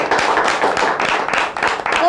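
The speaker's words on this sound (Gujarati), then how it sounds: "જોરદાર તાળીઓ" Applause for the winner of a quiz round at a ladies' kitty party game, with dense, steady clapping from a group for about two seconds under a talking voice.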